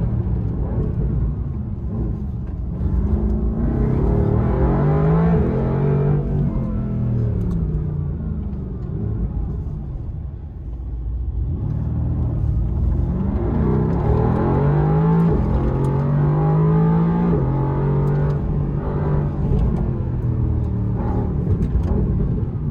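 A Mercedes AMG GT R sports car, a 585 hp road-legal race machine, drives past and accelerates in two long loud surges, its deep engine roar rising and falling with no talk over it.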